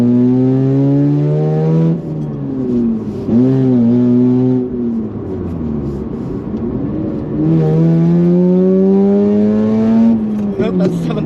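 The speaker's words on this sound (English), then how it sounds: "This car does like to rev out" A Mazda RX-8 (SE3P) rotary engine revs hard and climbs through repeated rising sweeps, dropping back between pulls, loud and close from inside the car.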